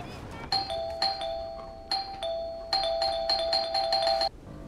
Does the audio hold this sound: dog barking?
no